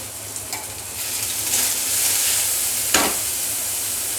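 Chopped onion sizzling in hot oil in a pan for a Kolkata-style egg devil, a steady frying hiss with a few small pops and one brief sharp crackle, close and alone.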